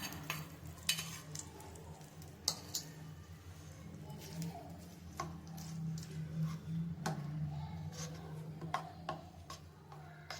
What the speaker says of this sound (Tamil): அது கூடயே வந்து நம்ம இந்த தாளிப்பு சேர்த்துடலாம்.